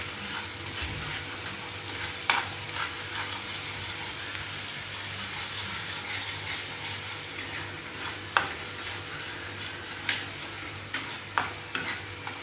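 Ginger garlic paste fries in a kadhai with a soft, continuous sizzle, broken by occasional sharp clicks and taps of stirring against the pan.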